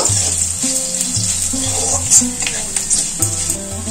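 Garlic, a dried red chilli, a bay leaf and five-spice seeds frying gently on low heat, a steady soft sizzle with a spoon stirring in the pan, music-like tones running underneath.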